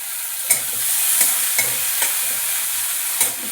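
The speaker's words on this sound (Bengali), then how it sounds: "পেঁয়াজ ভাজা হয়ে গেছে পরে টমেটো কুচি দিয়ে নেবো" Chopped onions and tomatoes frying in a pan give a loud, steady close sizzle, broken by a few sharp scraping strokes from stirring, with no voices.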